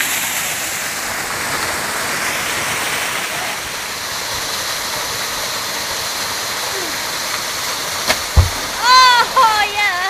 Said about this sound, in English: this is on the base of this magnificent waterfall